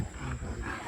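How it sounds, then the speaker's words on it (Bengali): Monkeys call out in the mangrove forest of Karamjal in the Sundarbans, Bagerhat, Khulna: a brief, rough, roaring cry over steady forest background noise, fairly close and loud. "বড় বানরের সবাই ডাক দিতেছে"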